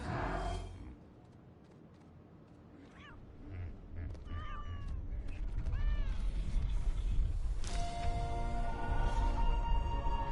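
A cat meowing in Ark Survival Ascended video game, several short rising-falling meows in the middle, heard over building game ambience and noise.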